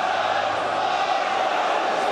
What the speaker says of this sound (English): it's taken a long, long time for this crowd to find their voices, 43 minutes